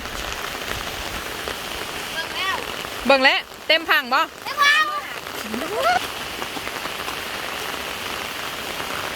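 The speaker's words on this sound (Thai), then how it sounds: "ฝนพำพำพี่น้องเลย" Steady rain patters throughout during a storm, with someone speaking briefly over it and a few chirping bird-like calls in the middle.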